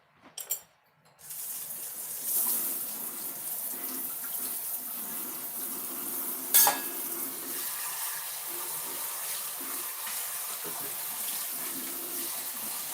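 Water runs steadily from a kitchen tap into a sink while pans are rinsed out during blueberry jam canning, a continuous close hiss with a few faint clinks and splashes.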